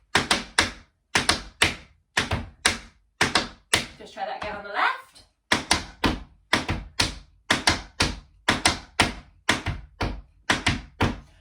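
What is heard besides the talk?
tap shoes doing shuffle steps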